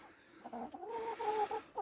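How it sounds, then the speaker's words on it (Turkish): Soft, low clucking from a hen or two, a short run of murmuring notes at close range with a faint background hiss. "dört tane tavuğumuz var"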